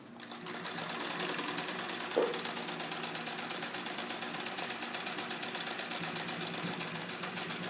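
A restored Singer 66 sewing machine stitches steadily through thick layers of denim, a fast even mechanical clatter running continuously at moderate volume with no voices.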